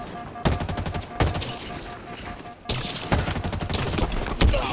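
Automatic gunfire in Halo Infinite crackles in fast, loud bursts throughout, with sharp louder shots standing out and a brief pause in the middle.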